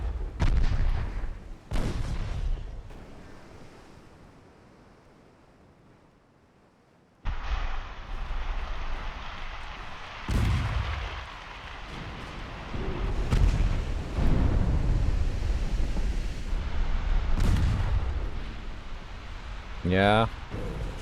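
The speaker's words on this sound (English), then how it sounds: "More torpedo hits." Torpedo hits explode against warships in Ultimate Admiral Dreadnoughts, a naval game of the 1890s: deep rumbling booms and sharp blasts, some loud and some distant, over a continuous roar. A voice talks at times.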